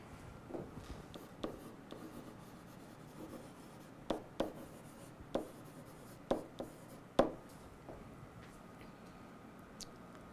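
Pen or pencil writing a title on an architectural technical drawing, with soft scratchy strokes and occasional sharp taps, quiet and close with no talking.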